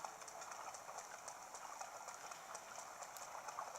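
Horse hooves clip-clop in The Legend of Zelda: Breath of the Wild, a steady, rhythmic run of quick, light hoofbeats that stays faint and even throughout, with no voices over it.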